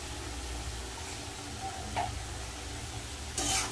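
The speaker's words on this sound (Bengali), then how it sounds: "আর ভালো করে মশলাটা কষিয়ে নেব।" Spices frying and being stirred in a pan for a spicy soybean curry, a steady close sizzle with a few sharper scraping stirs, no voices.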